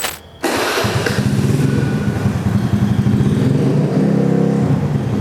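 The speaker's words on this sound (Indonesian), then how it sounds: "Nah, ini suara dia ketika idle." A custom bore-up Honda Spacy injection scooter engine starts and settles into a loud, deep, bassy idle. It holds a steady throbbing pulse close by, with no speech.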